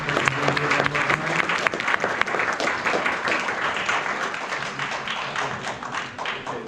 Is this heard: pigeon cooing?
no